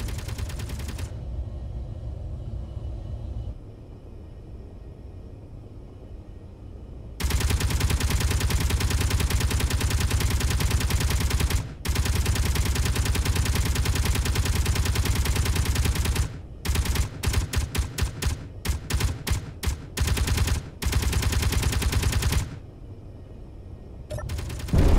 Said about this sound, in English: so the Gatling turret is hitting it